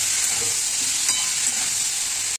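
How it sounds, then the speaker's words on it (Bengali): Pressure-cooked pieces frying in hot oil, a loud, steady hiss and crackle from close by that continues without pause before cutting off abruptly. "এবার আমি নিচড়গুলোকে ভাজতে দিয়ে দেবো তেলে"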